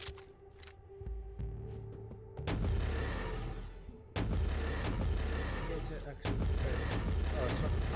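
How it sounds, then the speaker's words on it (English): Plasma gun fire in a Warhammer 40K video game: heavy booming blasts at about 2.5, 4.2 and 6.2 seconds, each followed by a sustained roaring wash of energy, over a low game soundscape. "It's a plasma gun, but it's good at melting."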